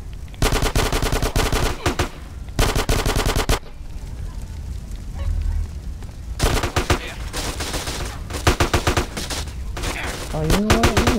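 Rapid automatic gunfire from Grand Theft Auto: San Andreas, loud and close, comes in several long bursts separated by short pauses, with a quieter stretch of rumbling noise in the middle.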